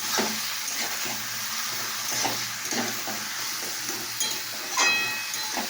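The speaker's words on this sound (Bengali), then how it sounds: "একটু নাড়াচাড়া করতে হবে।" Vegetables frying in a pan with turmeric and salt are stirred, giving a steady close sizzle broken by several scraping stir strokes, with no voices.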